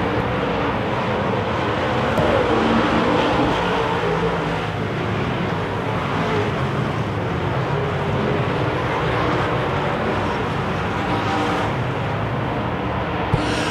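Wissota modified race cars roar around a dirt oval in a continuous, loud engine drone, several cars blending together with rising and falling revs throughout, no voices over the racket.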